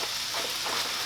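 Bologna, zucchini, onion and garlic frying in a pan, a brief, steady, even sizzle close up with no voices.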